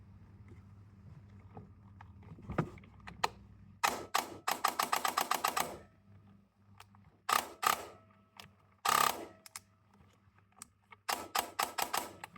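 A Scorpion Evo airsoft gun running on an 11.1V battery fires several sharp, rapid mechanical bursts of different lengths, each a tight rattling volley, with short pauses between them.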